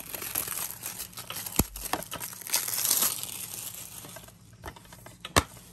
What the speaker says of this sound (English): we're going to take the plastic off now